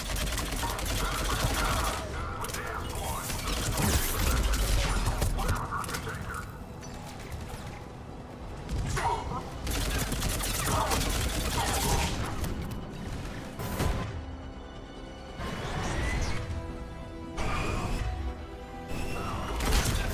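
Gunfire during a firefight in the Mass Effect 3 video game, with sustained bursts of shots, crashes and booms filling the scene loudly and continuously, and voices speaking over the combat.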